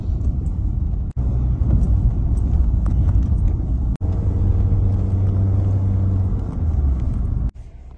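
Cars drive along a high mountain road toward Zero Point in North Sikkim with a loud, steady engine rumble and road noise heard from inside a vehicle, broken by a few sharp cuts.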